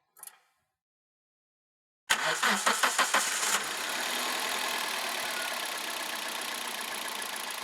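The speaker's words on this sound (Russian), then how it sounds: "Запускаем двигатель." A car engine cranks over with a quick series of starter pulses, catches, then settles into a steady idle; a short faint click comes first, followed by a silent gap before the start.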